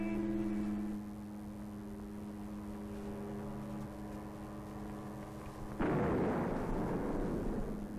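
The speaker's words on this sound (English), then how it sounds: "The greatly increased power caused failure of the lightly constructed switch tank, the oil caught fire" Oil-filled switchgear tank under a high-power electrical test, a steady humming tone cutting out and later a sudden loud explosive roar as the lightly built tank fails and the oil ignites, continuing as rushing noise.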